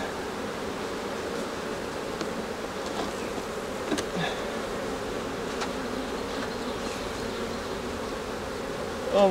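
Honeybees swarm around an opened beehive during an inspection, a dense steady buzzing that fills the space close and loud, with occasional sharper passes of single bees and no talking.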